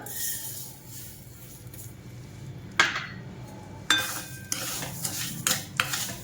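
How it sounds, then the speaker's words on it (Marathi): Sugar being stirred into half a spoon of ghee in a pan for sesame chikki, with repeated scraping and clinking of a spoon against metal over a low cooking hiss, several sharper strokes standing out near the end. "साखर चांगली विरघळून घ्यायची याच्यामध्ये तुपामध्ये चांगली मेल्ट होईपर्यंत परतत राहायचे सारखं हलवत राहायचं"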